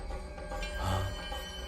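A telephone rings in a film scene, a short electronic trill that swells in the middle of the brief stretch, with no talking over it.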